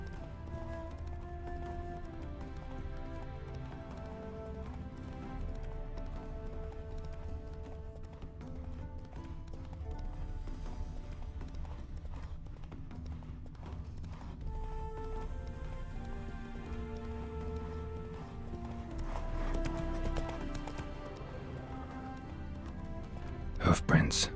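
The horse Roach in The Witcher 3: Wild Hunt moves with steady clip-clopping hooves under continuous game ambience and music, while a voice speaks over it.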